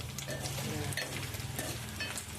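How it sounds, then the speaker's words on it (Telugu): Fish curry ingredients frying and being stirred in hot oil in a pan, a steady close sizzle with scraping stir strokes throughout, no talking. "ఇట్లా వేపుకోవాలి మంచిగా"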